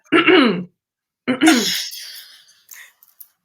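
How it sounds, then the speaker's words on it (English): A person clears their throat twice, close and distinct, with a short pause between bursts, followed by a few quieter breathy sounds. "I'm going to clear my throat on that one"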